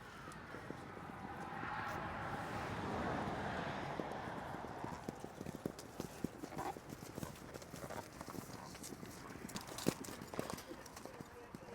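Racehorses walk at a British point-to-point race, hooves clip-clopping in a steady, close rhythm over a soft outdoor hush, with faint crowd murmur in the background.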